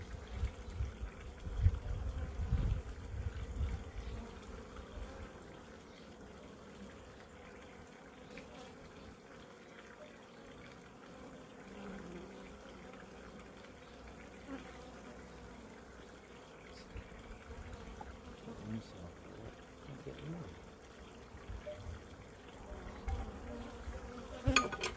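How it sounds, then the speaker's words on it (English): Bees buzzing around an open hive during a spring inspection of Flow Hive copy super frames, a steady faint hum outdoors with occasional louder passes near the recorder. "Three bees."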